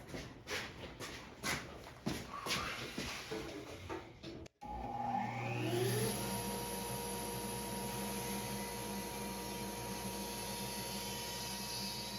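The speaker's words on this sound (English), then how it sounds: "that last cut I did not put the dust collector on, and this time I will" Clatter and thumps of shop activity give way to a woodworking dust collector that spins up with a rising whine and then roars steadily, loud and close, beside a bandsaw used for resawing.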